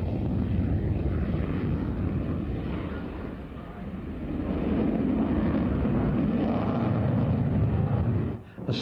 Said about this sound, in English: A single-engined multi-role fighter of very advanced aerodynamics and low weight